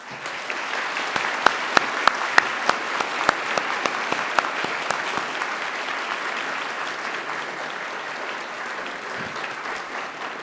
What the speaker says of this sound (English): give them a mighty round of applause in thanks and gratitude